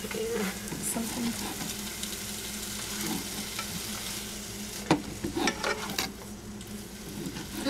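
Chicken pieces fry and sizzle in a pan for white chicken chili, giving a steady crackling hiss with a few sharper pops and stirring scrapes partway through.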